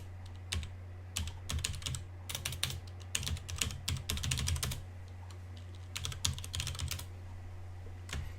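Keys clatter on a computer keyboard as a sudo command goes in at a Linux terminal while securing MongoDB, quick irregular bursts of close, crisp clicks with short pauses, over a steady low hum and no talking.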